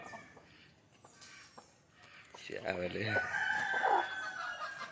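Free-range country chickens cluck and squawk close by in a coop in a burst of excited calls, with faint background rustling before the birds grow louder, as the coop is opened in the morning.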